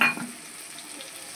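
Spice paste fries in hot oil as already-fried prawns go into the pan, giving a brief burst of sizzling that settles into a soft, steady crackle close by.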